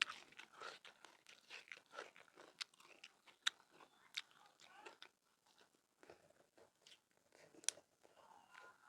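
Close, crisp crunching and biting on crispy fried fish eaten with bamboo shoot and shrimp curry, irregular sharp crackles in quick succession with faint mouth sounds and soft voice in between.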